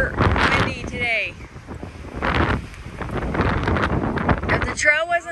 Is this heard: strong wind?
yes